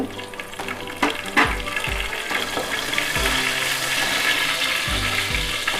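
Ginger and garlic sauté in oil in a village kitchen for a white chickpea chilli dish, with a steady close sizzle under a low humming tone and a few scraping knocks near the start.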